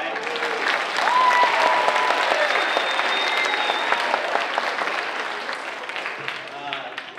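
Students at West Scranton Intermediate clap together during a C-SPAN award presentation, a dense sustained burst of hands from a school audience, fairly loud and close, with some cheering voices and talk mixed in toward the end.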